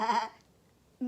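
A human voice imitates a sheep's bleat for Sheep, a story character, with a short wavering, nasal bleat that fades out, followed by near-silence.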